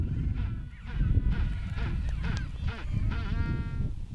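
Magellanic penguins call over one another at a nesting colony of ground burrows in Argentina, a dense, loud chorus of braying, honking cries that overlap continuously and close by.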